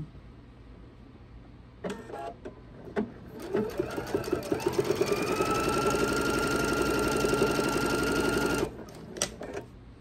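A sewing machine stitches down quilt binding with its raw edges lined up, running in a steady, loud burst after a few short starts, then stopping with a couple of brief clicks at the end.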